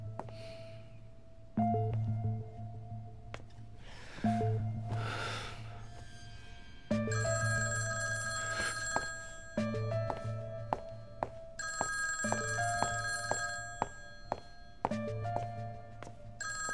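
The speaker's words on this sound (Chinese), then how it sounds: "我要打电话确认一下。" A telephone rings in repeated bursts, several rings with pauses between them, fairly clear and unaccompanied by speech.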